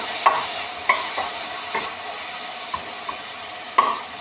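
Onions frying in a pan for semiya upma give a steady close sizzle, broken by several sharp scraping stir strokes at irregular intervals.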